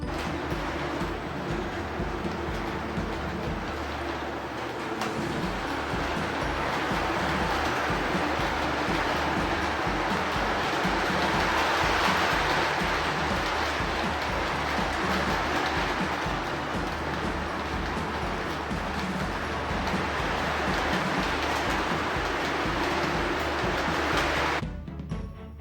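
A model train rumbles steadily along its track with a rhythmic clicking of wheels over rail joints, continuous and fairly close, before stopping abruptly.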